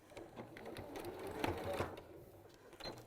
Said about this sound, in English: So I'm just sewing those right sides down.